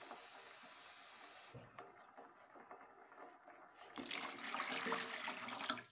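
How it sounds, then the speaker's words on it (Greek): Water is poured into a pan for one-pan rigatoni with mince on a teppanyaki griddle, a steady close splashing rush that briefly drops away and then returns louder and fuller. "Θα ρίξουμε 1 λίτρο νερό."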